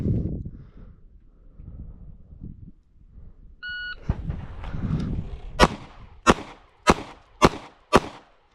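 Five sharp, loud shots from a S&W Bodyguard 2.0 pistol ring out in quick, even succession after an electronic shot-timer beep, with low rumbling handling noise beforehand.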